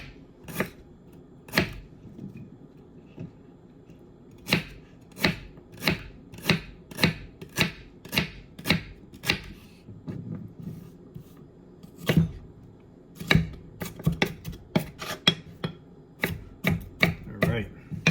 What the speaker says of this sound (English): I'm just going to slice it fairly thin, not too thin.